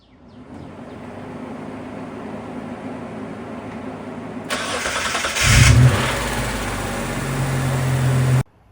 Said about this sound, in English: The car started, that's really good